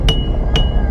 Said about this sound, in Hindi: कल रात हमें घर के बाहर से हथौड़े की आवाज आ रही थी